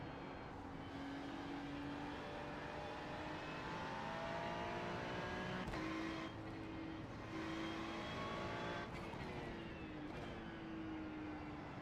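Race cars in the iRacing sim, a Ferrari 296 GT3 and a Mustang at Watkins Glen, engines droning loud and steady with shifting pitch as they pass and change gears, continuous throughout.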